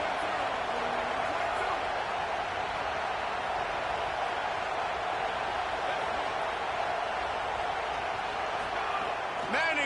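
A loud college football stadium crowd roars steadily on third down, a dense, unbroken wall of cheering noise that holds at full volume throughout.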